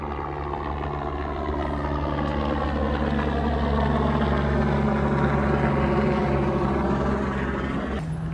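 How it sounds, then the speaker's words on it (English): A helicopter passing overhead in a SunnySlope street hums as a loud, steady rotor drone throughout, with harmonic whine shifting slightly as it moves, heard from a riding e-bike. "Oh, check it out. Another helicopter."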